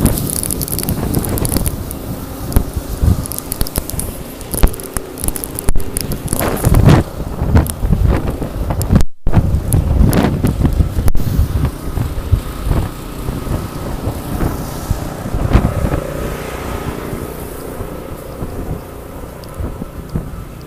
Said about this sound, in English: it's not as much snow as sleet, but it's still blowing around.